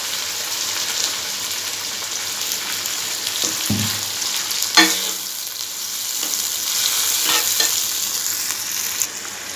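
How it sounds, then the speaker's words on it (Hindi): Chopped onions fry in hot oil with whole spices in a pan, a steady close sizzle running throughout, broken by a few scraping stirs and clanks midway; no voices. "उसके बाद मैं इसमें प्याज डालूँगी और इसको गोल्डन ब्राउन होने तक फ्राई करूँगी।"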